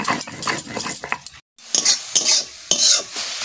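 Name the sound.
frying and stirring leafy greens in a pan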